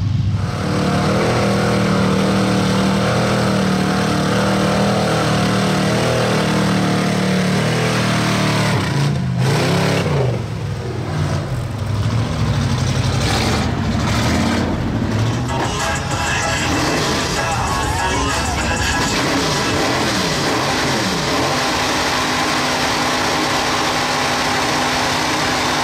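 Trucks at a mud bogging park revving their engines, loud, close, sustained engine roar with surging revs, pitch sweeps and a dip midway, over crowd noise.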